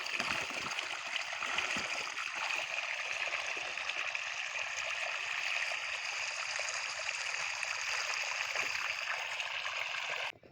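Water spraying onto a cricket pitch, a steady, even hiss and rush that runs unbroken for about ten seconds, close and moderately loud, then cuts off abruptly.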